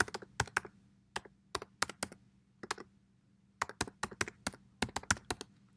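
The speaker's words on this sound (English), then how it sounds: "I'm going to type in my email. And I'm going to type it in again, re-enter it." Quick bursts of computer keyboard typing while entering an email address, crisp close key clicks in irregular clusters separated by short pauses, in a quiet room.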